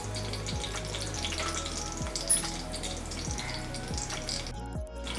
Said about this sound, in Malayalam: ആദ്യം എണ്ണ ചൂടാക്കുക, അതിൽ പെരുംജീരകം ഇടുക.